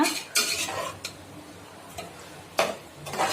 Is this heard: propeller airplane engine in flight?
no